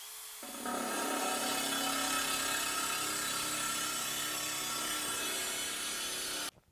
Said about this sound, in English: I've fully broken the surface of the porcelain with the hole saw